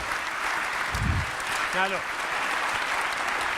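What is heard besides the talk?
audience applause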